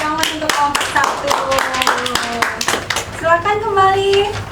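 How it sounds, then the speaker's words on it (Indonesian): Classroom applause for a student group, a cluster of sharp, uneven hand claps close by, mixed with children's voices talking and calling out over and between the claps. "beri tepuk tangan untuk kelompok 1."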